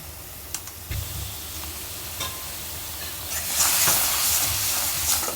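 Ground coriander, cumin, chili and turmeric hitting hot oil in a pan with prawns, a steady soft hiss that swells into a louder bright sizzle toward the end, with a few faint clinks.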